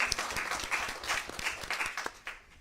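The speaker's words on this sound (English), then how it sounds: "Let's give everybody a round of applause." Audience applause at a student-hosted school board candidate forum, dense steady clapping from a crowd that fills the clip and tapers off near the end.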